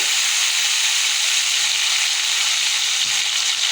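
Onions, tomatoes and green chillies sauté in a hot pan, giving a steady, close frying sizzle with a bright hiss that holds evenly throughout, no voices.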